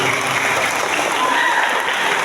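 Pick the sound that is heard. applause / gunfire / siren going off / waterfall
applause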